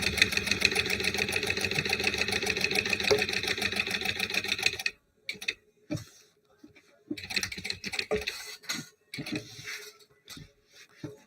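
A sewing machine tacks down fabric with a fast, steady stitching run for about five seconds, then gives several short, stop-start bursts, close and fairly loud.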